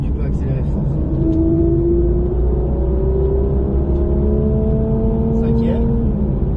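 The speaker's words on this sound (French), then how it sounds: "Tu peux accélérer fort" Engine rumbling and revving up with rising pitch as a Porsche GT3 RS accelerates hard on a track, heard from inside, with a voice speaking briefly over it.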